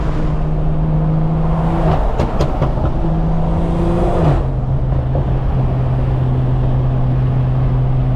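A 600 hp BMW M340i accelerates hard at night, its engine drone climbing steadily in pitch, then dropping briefly on a gear change before rising again, loud and close from inside the cabin.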